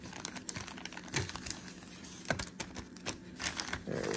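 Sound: shuffling trading cards

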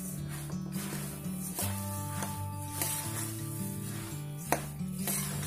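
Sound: puffed rice (bhadang) being stir-roasted in a pan

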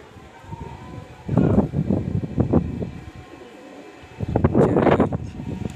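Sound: pigeon cooing

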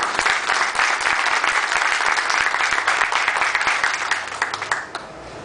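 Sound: audience applause

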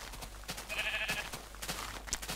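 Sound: sheep bleating in video game Minecraft

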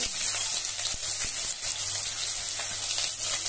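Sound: cumin and nigella seeds sizzling in hot oil in a kadai

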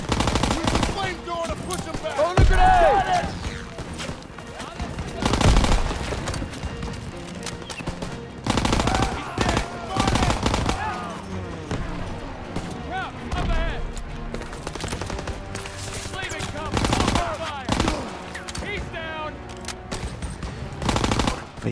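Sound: machine gun and rifle fire in Call of Duty WW2 video game

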